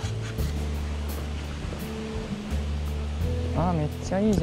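Water trickles and splashes at Marugami waterfall in Saitama, a continuous hissing rush under a low hum, with brief wavering tones rising over it near the end.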